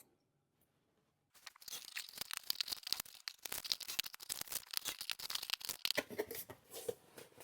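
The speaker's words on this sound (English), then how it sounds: "Then I'm going to go around and I'm just going to peel all the bits of tape off." Bits of tape peel off cardboard in quick, close ripping and crinkling bursts after a quiet start, with a steady, irregular rhythm that continues to the end.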